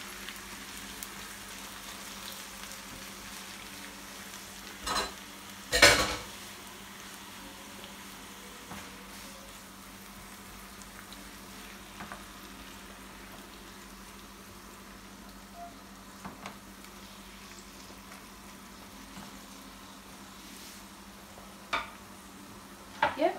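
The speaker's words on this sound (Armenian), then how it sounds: "Սոխը տապակվեց, հիմա այստեղ ավելացնում եմ սպանախը" Onion and spinach fry quietly in a pan, a faint steady sizzle broken by a few sharp scrapes and knocks of stirring, with one louder clatter early on.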